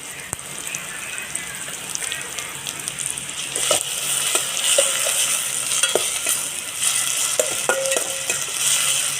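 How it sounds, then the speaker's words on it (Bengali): Ginger-garlic paste masala with chilli sizzles in a pan while a spoon stirs and scrapes it, producing a continuous bright frying hiss with intermittent clinks of the utensil against the pan, close up and without speech. "মশলাটা ভালো করে কষিয়ে নেব সেটা মশলাটা কষিয়ে নিচ্ছি"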